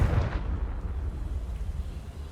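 Confringo spell explosion in the game Hogwarts Legacy, a muffled boom at the start that decays into a low, thunder-like rumble, fairly quiet and heard alone.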